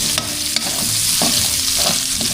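Garlic and onion sauté loudly in a hot pan, a dense continuous sizzle up close with soft scraping as the pieces are stirred, and no voices.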